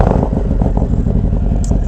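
A Harley-Davidson Road King with a Stage 2 upgrade gives a loud, close, throaty engine rumble. The deep pulsing is steady and sounds like revving, heard over a short stretch.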